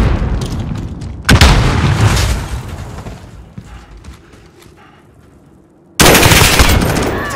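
Gunfire striking the player in Call of Duty: Modern Warfare, a video game: two loud, sharp bursts of shots and impacts, each decaying into rumbling noise, with a quieter stretch between them.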